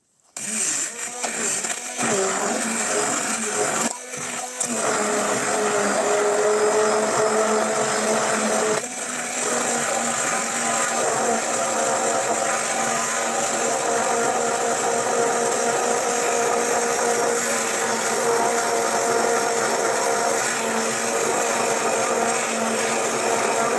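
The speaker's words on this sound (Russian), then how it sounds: "И все это хорошо перемешиваем погруженным блендером." Immersion blender whirring steadily through cake batter with eggs, soda and lemon juice for a curd-cream cake, a loud continuous motor drone with a few brief stops and restarts near the start.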